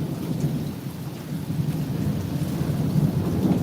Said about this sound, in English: Nothing beats, heavy natural rain.